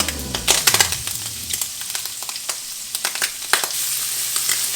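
Breakfast ham toasting in a hot pan gives a close, loud, crackly sizzle with irregular sharp pops and spatters throughout, and no voice over it.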